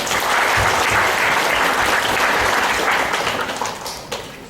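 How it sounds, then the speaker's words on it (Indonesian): Steady, dense applause from a large crowd at a graduation ceremony in Palembang, loud and sustained throughout before tapering slightly at the end. "Tepuk tangan untuk kita semua."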